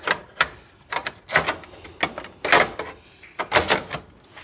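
Metal spill trays slide and clatter into place on a restored ten-year-old BBQ grill, a run of sharp, close knocks and scrapes in uneven bursts with no talking.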